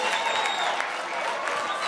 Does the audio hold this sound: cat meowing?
no